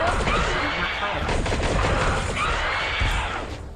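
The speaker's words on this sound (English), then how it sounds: "Pull the trigger while holding your launchers to fire." Launcher weapons fire in the VR game Zenith on Oculus Quest 2 as a loud, dense barrage of blasts and explosions filling the whole stretch, with a voice faintly mixed in.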